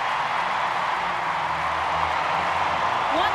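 Crowd at a Women's Six Nations rugby match between England and France roaring and cheering after a try, a dense, steady wall of stadium noise that holds for a few seconds with no break.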